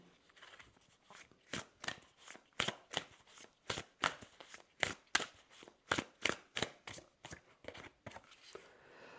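A deck of tarot cards is shuffled in a series of quick, crisp riffling bursts, roughly a dozen evenly spaced flutters, close and fairly quiet, with no voices.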